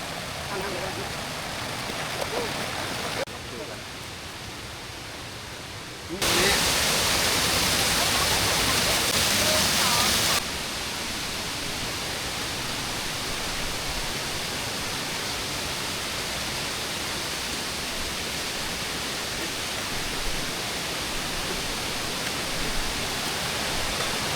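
Pha Phueng waterfall in a Thai wildlife sanctuary pours in a constant broadband rush, steady and fairly close, with a brief louder stretch early on and no talk over it.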